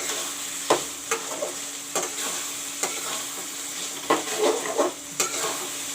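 Fish curry masala with coriander leaves and tomato frying in a pan, a soft steady sizzle punctuated by repeated stirring scrapes and clinks of a spoon.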